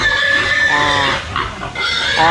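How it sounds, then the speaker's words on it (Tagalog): Breeding sows in a farm pen grunt and squeal, with several loud, close oinks and higher shrieks overlapping over about two seconds. "Ayan yung mga baboy namin inahin mga idol"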